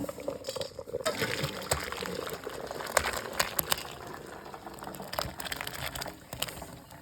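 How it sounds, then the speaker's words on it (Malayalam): Hot water being poured off boiled cassava in a kitchen, a gushing, splashing pour with intermittent clatters, close and moderately loud throughout. "നമുക്ക് ഈ വെള്ളം ഊറ്റിക്കളെ"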